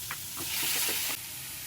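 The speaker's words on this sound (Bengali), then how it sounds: "এবারে আমি টমেটো, কাঁচা লঙ্কা ও আদার পেস্টটা দিয়ে দিচ্ছি। এটা দিয়েও আমাকে একটুখানি নাড়তে হবে।" Tomato, green chilli and ginger paste frying in a pan while being stirred, a loud sizzling hiss swelling then cutting off abruptly, with soft scraping strokes, no talk.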